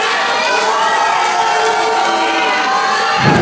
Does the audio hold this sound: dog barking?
no